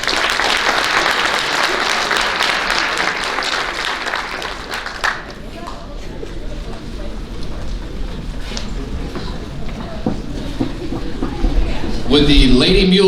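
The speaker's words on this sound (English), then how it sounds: "Once again, let's give these young men a round of applause." Banquet audience at a Muleshoe High School athletic awards night breaking into loud, dense applause that swells and then thins out, with scattered claps and voices rising toward the end.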